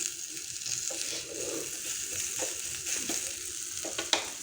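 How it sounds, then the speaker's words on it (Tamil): Onions fry in oil with a soft, continuous sizzle, broken by occasional light stirring scrapes and clicks close by, fairly quiet and steady. "அந்த எண்ணெயில் கொஞ்சம் நேரம் அந்த வெங்காயமெல்லாம் வெந்து வந்துச்சுன்னா போதும்"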